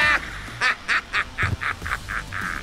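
A goose from the Atomic Heart DLC teaser honks loudly and close, a string of about eight short nasal honks at a quick uneven pace, with nothing else over them.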